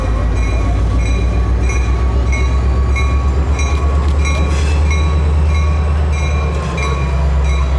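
Baltimore and Ohio diesel locomotive No. 6405 rolls past at close range, a loud, steady engine rumble with a sustained high tone and rhythmic rail clatter filling the whole stretch.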